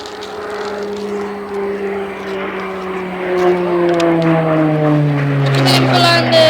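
A propeller warbird, a Hurricane or Spitfire, flies at the 2019 Cosford air show, its engine a steady harmonic drone that sways slightly in pitch and grows a little louder toward the end.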